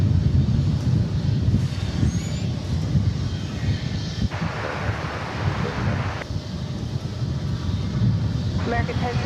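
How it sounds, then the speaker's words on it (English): American Airlines Boeing 737-800 jet airliner at DFW Airport, a steady broad engine roar mixed with wind buffeting on the microphone, continuous throughout with no clear peaks. "A 737-800."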